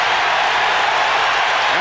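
A basketball arena crowd at a 1995 Knicks–Pacers playoff game reacts to a foul called on Patrick Ewing, a broad, loud roar of many voices filling the space steadily without break.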